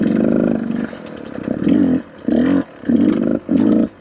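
Dirt bike engine revving in bursts through full lock turns on rutted, semi-frozen wet ground, loud and close, with repeated throttle blips rising and falling about five times alone.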